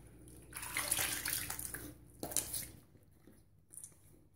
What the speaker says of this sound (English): Let's get that rinsed off